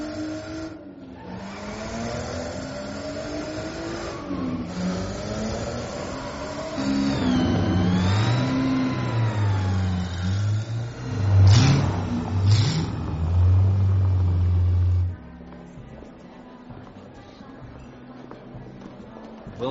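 A car engine revs and rises in pitch as the car is driven away, loud and close, with a surging, wavering tone that peaks and then cuts back to a quieter idle-like hum near the end.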